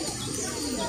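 A pigeon coos softly at a crowded Shiva temple where devotees pour water over the lingam, a short, close, low murmur over steady background hubbub.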